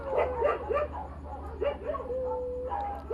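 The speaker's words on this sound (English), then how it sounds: "now all these dogs fucking started up again" Several dogs bark and yip in repeated bursts, with whining and whimpering tones between, fairly close over a low steady hum.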